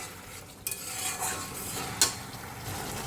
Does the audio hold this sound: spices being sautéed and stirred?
yes